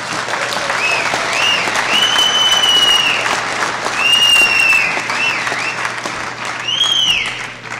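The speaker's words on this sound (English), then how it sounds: "you should give yourself a round of applause" Union members at a mass membership meeting applauding in a large hall, a loud dense roar of clapping with rising and falling swells and a few cheering whistles cutting through.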